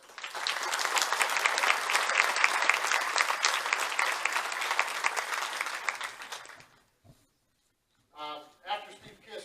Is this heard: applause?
yes